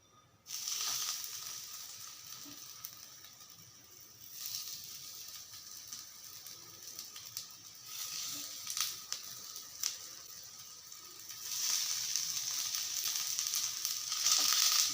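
Carrot and onion vegetable cutlets fry in a shallow layer of oil in a pan, giving a continuous soft sizzle and crackle that swells and fades in waves, close and fairly quiet, with no speech.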